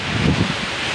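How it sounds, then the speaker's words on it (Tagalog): Wind driven by water falling at Busay Falls in Sorsogon roars and buffets the microphone in a loud, close gust lasting about a second. "Ang bagsak ng tubig may kasamang hangin."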